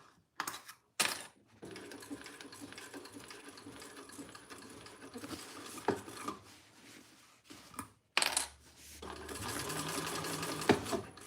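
A sewing machine stitches in bursts, stopping and starting with short pauses and faint clicks, quiet and close while sewing up a trifold wallet.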